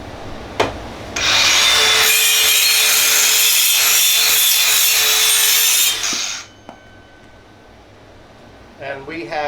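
A DeWalt DCS571B 20V Atomic 4-1/2 inch cordless circular saw cuts through a 2x4, giving a loud, steady, high whine for about five seconds before spinning down, with someone speaking briefly afterward.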